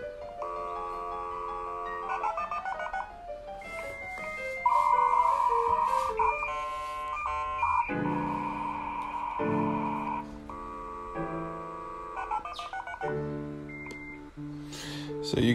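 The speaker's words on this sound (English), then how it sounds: "this one is the modem." A dial-up modem plays a series of tonal beeps and dialing tones, then shifts into harsh buzzing handshake static before more warbling tones, loud and unbroken with no voices.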